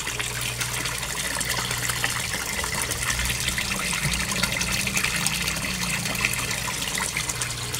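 An Aquaspeed aerator pump churns koi pond water into a dense stream of bubbles, giving a constant, loud rushing and gurgling wash that stays even throughout with no talk over it.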